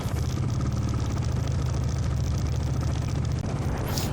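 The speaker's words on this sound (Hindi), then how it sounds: "एटलीस्ट थोड़ा बाइक साउंड है यहाँ पे" A Royal Enfield Bullet motorcycle engine drones steadily and loudly while the bike is ridden through the middle of Jaipur city, a continuous low rumble that stays constant throughout.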